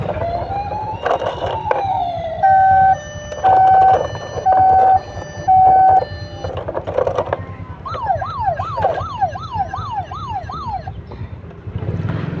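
A toy model ambulance siren sounds in bursts, first steady electronic beeping tones and then a rapid wailing yelp, over a constant low background hum with no talk.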